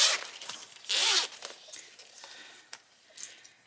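A zipper pull slides along zipper tape in a few quick, close, raspy zips, the longest one in the middle, with small clicks and rustles between them in a quiet room.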